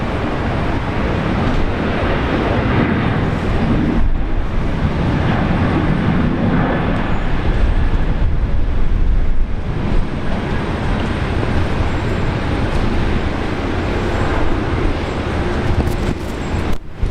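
A Qantas airliner lands on runway 01 right at Brisbane Airport, heard as a loud, continuous broadband roar that sustains throughout with slight swells, mixed with surrounding background noise.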